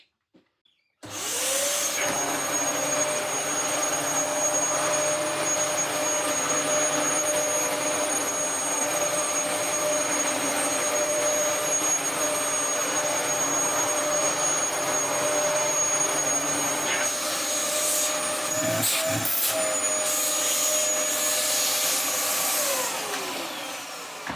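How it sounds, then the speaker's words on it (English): A Dyson vacuum cleaner with a freshly washed hose runs on a floor, a loud steady motor roar with a high whine that holds for over twenty seconds, with a few clicks and bumps near the start and end and no talk. "now we have to play with a nice washed Dyson hose and try and get it onto there. Then we'll test it works on the floor."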